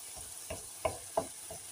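Onions sauté until lightly brown with a faint, quiet sizzle and a few soft, rhythmic spatula strokes in the pan.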